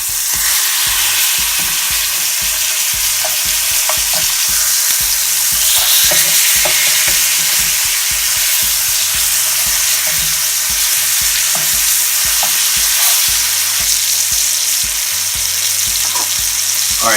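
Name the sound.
pork chops sizzling in a frying pan after flipping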